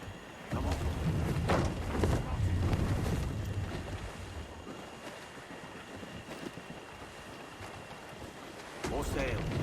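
Sailing ship gliding over open water in Assassin's Creed IV Black Flag, a steady wash of wind and waves with creaking hull, while crew voices call out intermittently over the continuous rush.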